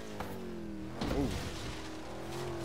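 In Forza Horizon 3, a car's steady engine drone is broken midway by a brief, rough thump and rattle as it lands hard, then the engine hum carries on.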